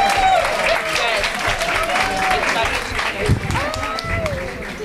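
Audience applause at an LGBTQIA+ public policy seminar honoring an activist, steady clapping running under a speaking voice and some tonal sounds throughout.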